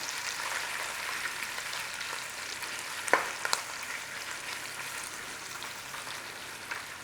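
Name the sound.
corned beef curry frying in a steel pan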